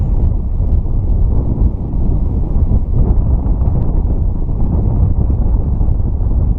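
Wind blowing upriver, a loud constant low rumbling buffet of wind on the microphone with no pauses and no talk.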